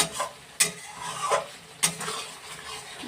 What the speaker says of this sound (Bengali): যতক্ষণ না হচ্ছে তেল বেরিয়ে আসছে ততক্ষণ আস্তে আস্তে করে নাড়তে হবে চারিদিকে